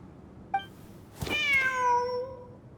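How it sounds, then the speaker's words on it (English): Cat in Genshin Impact: a brief chirp, then a clear, drawn-out meow that slides down in pitch and fades, close and alone over a quiet background. "Wait, there it is! The cat!"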